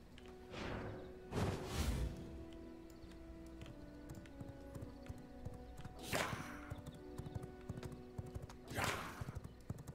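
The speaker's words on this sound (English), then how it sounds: "Look at a horsey go." A horse galloping in the video game V Rising, with steady clip-clop hoofbeats throughout and several whooshing swells, fairly quiet.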